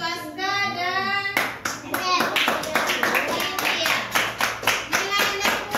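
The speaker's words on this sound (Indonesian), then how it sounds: "Ya, kita kasih aplaus untuk Aska dan" Children in an elementary school classroom burst into applause, a dense run of many hands clapping that follows a teacher's spoken lead-in and continues with uneven bursts.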